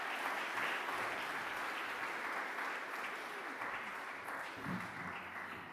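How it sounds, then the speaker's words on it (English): An audience at a music exam presentation day applauds a speaker being introduced, giving a continuous, dense wash of clapping that stays fairly even and somewhat distant throughout. "Please, a big round of applause for Sarah Patterson,"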